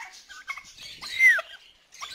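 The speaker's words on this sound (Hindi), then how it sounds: "ये टर्की का मेल है। मेल इस तरीके से होता है" A male turkey on a farm lets out a single clear gobble, a rapid warbling call that rises near the middle, with faint bird calls around it and no talking.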